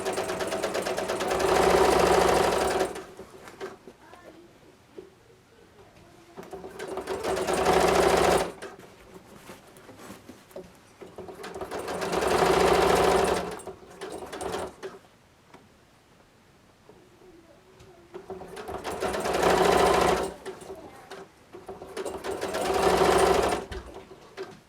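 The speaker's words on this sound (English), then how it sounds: "now we're sewing it at 3/8 of an inch against the raw edge of the bottom of the vest" A sewing machine stitching bias tape onto the bottom hem of a quilted vest runs in five separate bursts of a few seconds each, the rapid needle clatter loud and close, with quiet pauses between the bursts.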